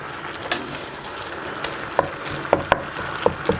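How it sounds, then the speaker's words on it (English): Panang curry paste fries in oil split from coconut milk, a soft continuous sizzle with scattered pops and crackles that sharpen toward the end. "I want to cook that paste in the coconut milk"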